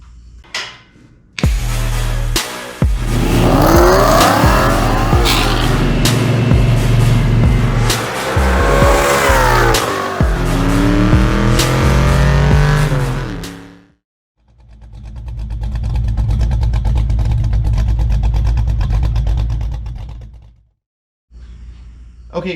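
A 1982 Ford GT with a small block Ford V8 runs on a race track, engine roaring loud and close as it revs up and down through gears, with tire squeal, then a quieter pass and brief silences.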